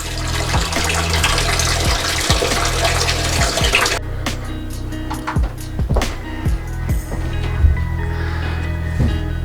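Water drains from a toilet tank during a flush valve replacement, a steady rushing and splashing wash that thins out midway, leaving scattered drips and knocks against the pan below.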